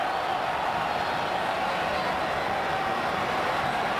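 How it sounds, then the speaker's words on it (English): Large crowd in St Peter's Square at the announcement of a new Pope, a steady dense roar of cheering voices filling the space at moderate distance, sustained without pause. "You hear the crowd picking up in intensity"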